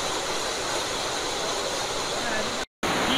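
Kundal Shahi waterfall in Neelam Valley, Azad Kashmir, gives a steady, dense roar of falling water that fills the whole clip and drops out briefly near the end.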